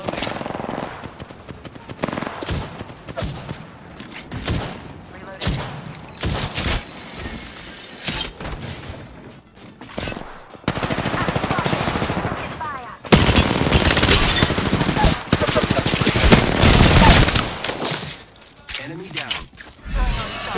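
Gunfire in Apex Legends: bursts of automatic fire and single sharp shots come in uneven clusters, growing louder and denser partway through, with a voice talking over the action.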